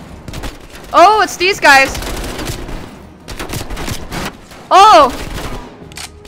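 Gunfire from Call of Duty Black Ops Cold War rattles in bursts under excited shouting voices, with sharp vocal outbursts near the start and again midway.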